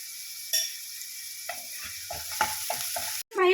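Onions fry in hot oil in a pan, a quiet steady hiss that grows busier as several spoon stirs and scrapes cut in near the end, close up and alone.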